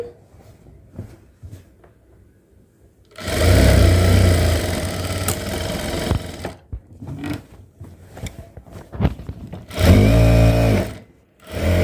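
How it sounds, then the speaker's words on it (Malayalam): A sewing machine stitches fabric in two loud, steady mechanical runs of rapid whirring and clatter, separated by quieter handling noises, with no talking. "താഴോട്ട് സ്റ്റിച്ച് ചെയ്ത് വരണം."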